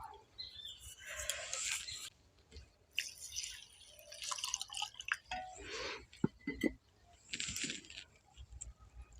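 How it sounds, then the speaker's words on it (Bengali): New-harvest atap rice is swished and rinsed by hand in a bowl of water, giving soft, close, intermittent splashes and drips at a quiet level. "এখন আতপ চালটাকে আমি আলাদা পাত্রের মধ্যে রেখে আমি একটু ভালো করে ধুয়ে নেব।"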